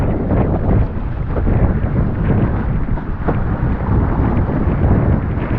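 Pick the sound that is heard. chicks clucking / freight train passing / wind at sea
wind at sea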